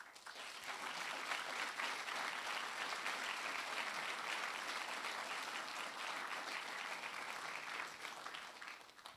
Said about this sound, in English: that deserves a huge, huge round of applause.